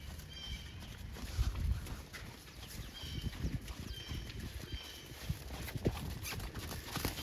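Horse hooves clip-clop steadily on an arena surface during a riding lesson, a rhythmic, fairly close gait continuing throughout with no talk.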